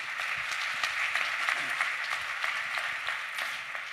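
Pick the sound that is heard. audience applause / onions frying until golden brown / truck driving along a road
audience applause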